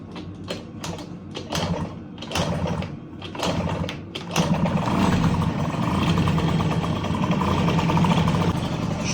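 A Honda Tact 24 scooter engine, freshly repaired, is cranked with a few short bursts, then catches and runs steadily at a fairly loud, close idle.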